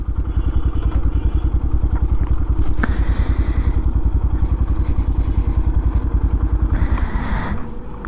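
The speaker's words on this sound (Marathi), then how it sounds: "थांबा मी बाईक पार्क करतो" A Yamaha FZS V3 motorcycle idles loudly and steadily up close near a waterfall viewpoint, its rapid engine pulse running evenly before a brief rev and then a drop as it settles and is switched off.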